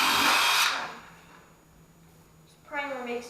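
A power drill drives a screw into a primed subfloor in an upstairs hallway, a loud close whir that stops, then starts again, with voices heard in between.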